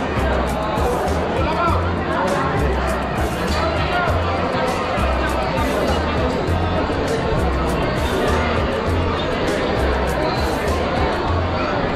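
A large crowd of pilgrims queues at Trimbakeshwar temple in Nashik, filling the air with dense, continuous chatter and babble, with voices near and far under a steady low hum.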